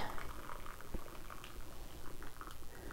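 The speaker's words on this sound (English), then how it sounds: "So I'll just drain off the liquid." Spaghetti cooking water drains into a makeshift sink, a quiet bubbling, gurgling stream with small splashes, fairly faint and heard alone.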